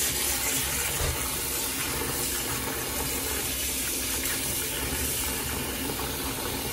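Monk fruit rinsed under a running kitchen tap, a steady broadband rush and hiss of water that stays even and continuous throughout, close and fairly loud with no talking.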